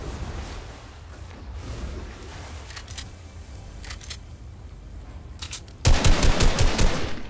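Gunfire in Fortnite during a PC Platform Cash Cup match: scattered sharp shots over a quiet stretch, then a loud, rapid burst of repeated fire near the end.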